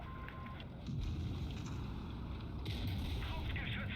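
Deep boom of a tank cannon shell firing in World of Tanks Blitz, with the Grille 15 in play, a low rumbling blast followed by a second heavy thud and lingering battle noise.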